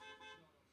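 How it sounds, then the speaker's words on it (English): A single car horn beep sounds briefly and fairly faint, announcing a car arriving outside, with no talking over it. "That beep is my dad arriving back."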